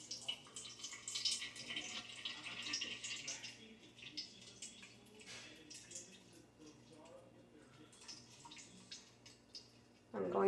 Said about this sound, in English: I'm just twisting in my cheese bag so the water, the whey can drain out